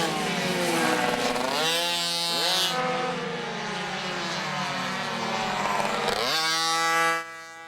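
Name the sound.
mini moto motorcycle riding in final practice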